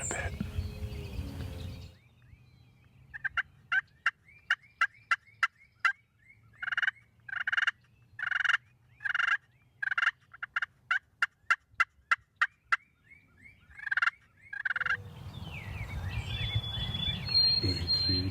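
Wild turkey toms gobble in a long series of short, sharp bursts, fairly far off and alone over quiet sunrise air in Ontario.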